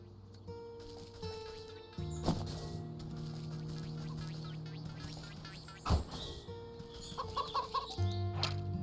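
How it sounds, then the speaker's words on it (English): Chickens clucking in the Wytchwood video game, several short bird calls scattered over a sustained musical background, with a louder cluster of clucks near the end and no speech. "Chickens. Chickies. Rooster. Oh, look at the little chickens."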